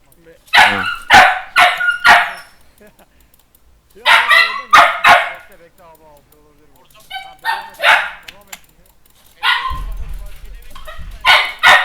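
A dog barks loudly and close by in bursts of two or three sharp barks separated by pauses. People talk between and over the barking.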